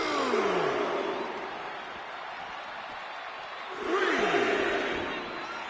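A hostile Canadian arena crowd in the WWE 2K26 wrestling game booing and roaring at Shawn Michaels, a dense continuous wash of crowd noise that swells louder again near the end.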